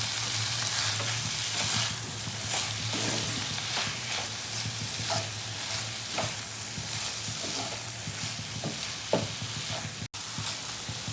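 Onion flowers and coriander leaves sizzling in a frying pan with shrimp while being stirred, a constant close frying hiss broken by soft scraping strokes and an occasional clink.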